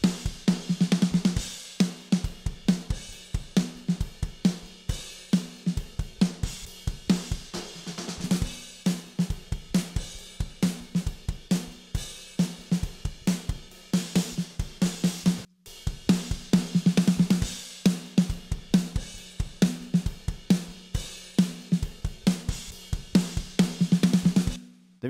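Snare drum heard through Shure SM57 and then AKG C451 top mics, struck in a steady repeating pattern with bright crisp cracks and ringing tone, loud and close, with no talking.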